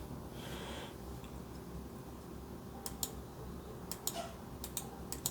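Crisp mouse-button clicks from a RAWM SA gaming mouse, close and quiet, arriving as a scattered run of sharp ticks over a faint background hum.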